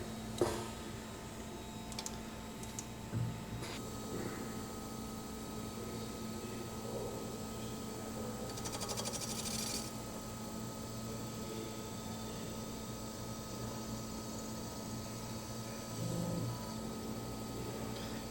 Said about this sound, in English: you can hear and see when it's up higher, the diameter is larger, so the spindle is running about 700 RPM